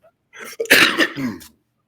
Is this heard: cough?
yes